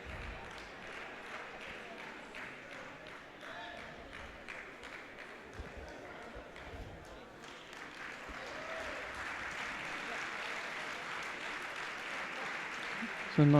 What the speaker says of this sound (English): So a nice warm round of applause for those two